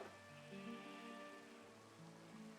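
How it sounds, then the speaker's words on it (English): Steady rain falls in the Minecraft video game, a soft continuous patter kept low under sustained tonal in-game music. "Starting to rain."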